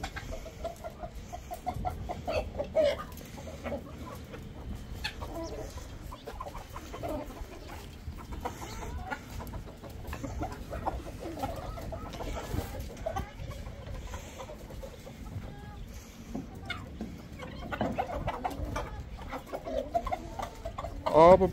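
Hens clucking in a backyard coop, a steady busy chorus of low clucks and occasional squawks at moderate distance, with faint talk now and then.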